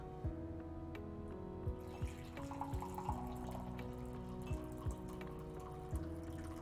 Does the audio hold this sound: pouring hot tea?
yes